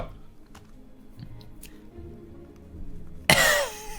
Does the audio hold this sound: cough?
yes